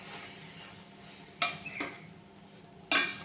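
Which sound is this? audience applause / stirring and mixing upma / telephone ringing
stirring and mixing upma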